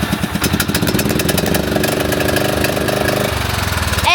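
A lawnmower engine chugs steadily close by with a rapid, rhythmic putter, its pitch shifting slightly partway through.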